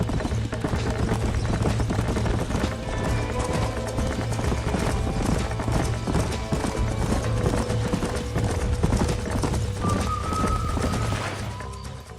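Horses' hooves clip-clop steadily and continuously over a dense game soundscape in Red Dead Redemption, with an occasional whinny and faint background voices during horse breaking.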